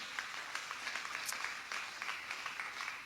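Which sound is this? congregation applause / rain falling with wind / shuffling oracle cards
congregation applause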